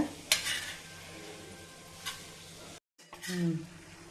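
Egg pepper masala stirred in a pan with tomato and onion, a few sharp scraping clinks of the spoon over a low sizzle, with a brief gap of silence before a final stir.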